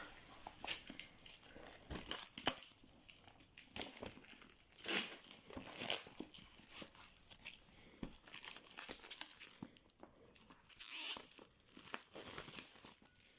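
Crinkling and tearing of plastic and paper packaging as a Victorian fairy tarot deck is unwrapped, in repeated close bursts of rustling with no speech.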